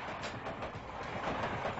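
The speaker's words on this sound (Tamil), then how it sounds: "ட்ரெயின் சவுண்ட்ல காதுல விட மாட்டேங்குது" A passing train makes a steady, continuous rumble with a faint rhythmic clatter, filling the whole short stretch without pause.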